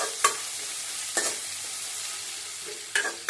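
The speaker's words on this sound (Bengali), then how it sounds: "এগুলো একটু লাল করে ভাজবো।" Onions and green chilies fry in a pan with a steady, soft sizzle, broken by a few sharp scraping bursts from stirring.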